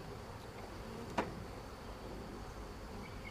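Honeybees from a package being installed into a hive, a steady low buzzing hum throughout with one brief sharp click partway through.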